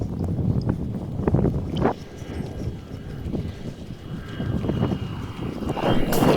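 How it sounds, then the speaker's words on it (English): Wind gusts outdoors at an open flying spot, buffeting the microphone with low, uneven rumbling and rustling that rises and falls over several seconds. "you can hear the wind blowing"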